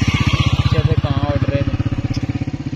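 A tractor engine chugs steadily in a potato field, its regular pulsing throb loud and close throughout, with brief faint voices over it.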